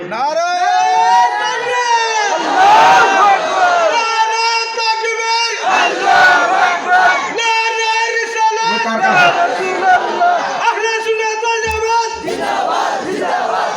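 A large crowd at a Bengali religious sermon loudly shouts the takbir in repeated drawn-out chanted bursts, with voices swelling together and briefly pausing between calls.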